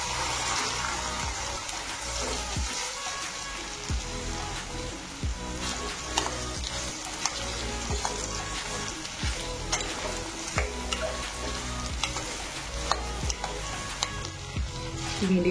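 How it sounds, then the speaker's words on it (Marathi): Chopped okra and green chillies frying in a pan over a medium gas flame, a continuous close sizzle with stirring scrapes throughout and no voices. "यामध्ये आपण कट करून घेतलेली भेंडी टाकून घेणार आहोत।"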